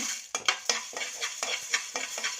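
Fenugreek seeds and urad dal roasting in a pan, stirred with a spoon in quick, rhythmic scrapes and taps against the metal, with a light crackle underneath.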